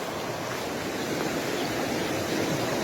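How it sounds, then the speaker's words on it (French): The Vior river running with a noticeable current, giving a continuous, moderately quiet rushing wash of water outdoors with no voices, steady throughout. "Voilà la rivière du Vior."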